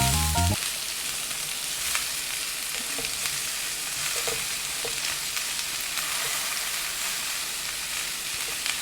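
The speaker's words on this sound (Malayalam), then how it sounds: "ഇനി നമുക്ക് കുറച്ച് ഈ അരിഞ്ഞു വെച്ചിട്ടുള്ള സവോള നമുക്ക് ഇടാം" Garlic and chopped onion fry in a pan, making a loud, dense, steady sizzle that fills the whole stretch, with a brief thump at the start and occasional faint stirring ticks.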